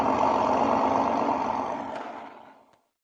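A 1/35-scale model tank's electronic sound module plays a rumbling engine idle that holds steady, then gradually fades and cuts out in a shutdown just before three seconds, leaving silence.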